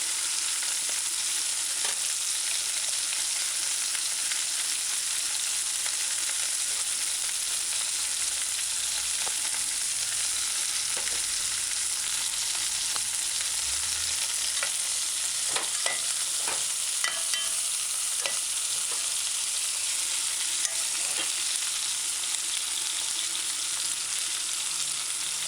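Hot pepper sautéing in a pan over a medium-high stove for chicken coconut stew, a steady close sizzle with occasional soft stirring clicks, no talking.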